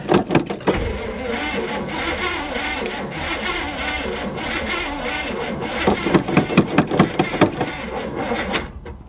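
A 1970 Chevy Monte Carlo engine cranks over repeatedly, a rhythmic whirring starter churn heard close and loud, with sharp clicks at the start and end.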